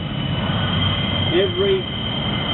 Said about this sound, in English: Every day. 44 trains a day.